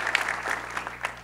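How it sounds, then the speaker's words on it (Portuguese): An audience applauds federal deputy Alceu Moreira at the opening of a seminar on biofuels, a short burst of loud, dense clapping from a crowd in a hall. "Uma grande salva de palmas ao deputado federal, nosso líder, Alceu Moreira."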